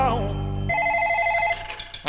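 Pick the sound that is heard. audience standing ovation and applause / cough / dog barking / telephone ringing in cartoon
telephone ringing in cartoon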